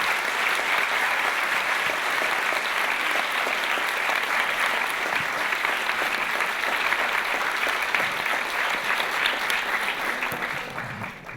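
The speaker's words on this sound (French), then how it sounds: "Je vous propose quand même de les applaudir." Congress audience applauding two speakers after a session on hypnosis, a steady dense wash of clapping from many hands that holds for about ten seconds and then begins to fade.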